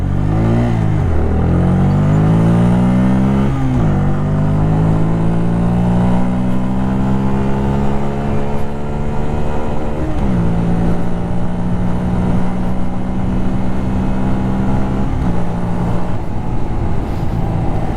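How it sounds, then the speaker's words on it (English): A Bajaj Freedom 125 motorcycle with a 125cc engine accelerates hard on the road, its engine note climbing steeply through each gear, dropping at every shift around four, ten and fifteen seconds, then rising again, loud and close throughout. "Now let's pull it hard."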